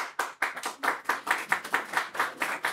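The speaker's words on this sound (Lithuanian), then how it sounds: "man atrodo, partiečiai ploja" Steady rhythmic clapping from a group of party members, a dense run of sharp hand claps close by, continuing evenly throughout with no voices over it.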